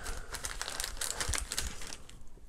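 Unpacking a boxed aluminium RGB headset stand: a plastic bag crinkles and rustles in quick, close, continuous bursts for a few seconds, with no talk.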